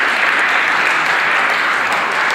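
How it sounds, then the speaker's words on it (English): A conference audience at the ETHWarsaw 2022 main stage breaks into dense, steady applause, a loud, even wash of many hands clapping with no voices over it. "can we all put our hands together for a big round of applause for Marcin, Polina, Summit, and ETHWarsaw"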